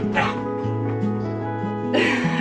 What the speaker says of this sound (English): My dog is running in and out.